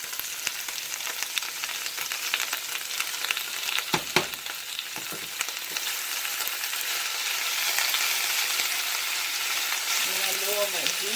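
Spinach sautéing in a hot pan, a continuous loud sizzle and crackle with a few stirring knocks, a voice briefly heard near the end.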